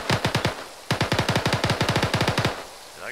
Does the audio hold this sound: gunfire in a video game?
yes